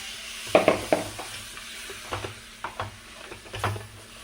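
Chicken pieces go into a hot pan for pepper chicken, giving a soft sizzle under a run of close, uneven stirring scrapes and clinks that come in short bursts.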